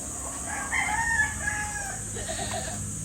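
Chickens, a laying hen among them, cluck and call close by over a steady outdoor hum, with a short burst of louder clucking in the middle.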